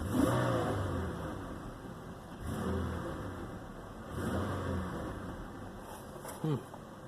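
A Buick Lucerne with a GM 3.8 engine and a faulty electronic throttle body revs up in several swelling pulses above a steady idle, with a voice speaking over the engine.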